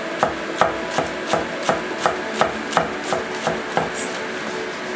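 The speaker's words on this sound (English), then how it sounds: "when we cut green onion, usually we cut like this" Knife chopping green onion on a cutting board, about a dozen crisp, evenly spaced push cuts in a steady rhythm, close and clear with no talking.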